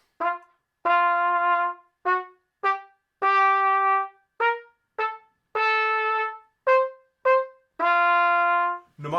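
Single-tongued syncopated notes on a wind instrument, played clean and slow: a short run of crisp detached tones alternating with longer held notes in an uneven rhythm, close and solo.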